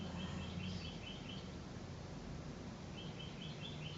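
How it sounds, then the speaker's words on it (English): Birds sing outdoors, faint and distant, in short chirping bursts near the start and again toward the end over a quiet hiss. "Listen to the birds."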